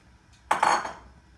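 A lid set down on a pan on a stove, cooking orange jam, giving a single short metallic clank with a brief ringing tail.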